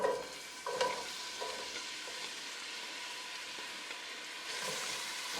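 Onion dropped into about three tablespoons of olive oil in a wide pan on medium heat, a brief clatter then a soft, steady sizzle close by, swelling slightly near the end, without talk.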